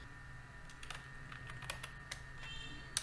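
Typing on a computer keyboard, a quiet close run of irregular key clicks and taps over a low steady hum, with no talking.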